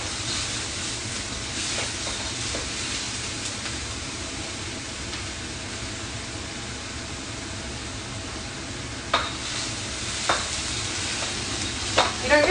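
Spices fry in a hot wok for mapo tofu, a steady broadband sizzle running throughout with a few sharp scraping clicks of stirring near the end; no voices.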